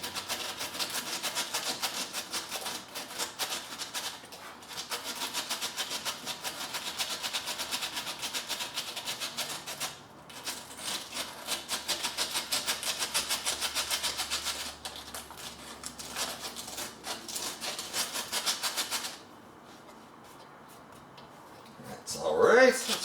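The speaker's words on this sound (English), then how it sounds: "I'm going to grab some sandpaper. Alright, let's take a little 60 grip to this first." Coarse 60-grit sandpaper scrubs steadily across the body of a budget guitar during a modification job, a continuous raspy friction noise with brief pauses, stopping near the end where a little handling noise follows.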